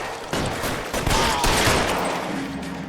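Rapid bursts of gunfire crackle in a video game shootout, several sharp cracks and a short fusillade following one another closely at high volume, with no speech over them.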